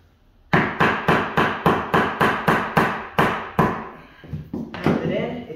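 A tool pounds a click-lock flooring plank so its joint locks into place: about ten evenly spaced, sharp, loud knocks, then a few lighter, irregular taps.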